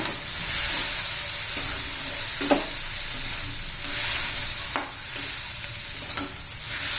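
Okra being stirred with gram flour (besan) in a pan, a steady soft scraping and light sizzle with a few sharper spoon knocks against the metal, close and continuous with no talking.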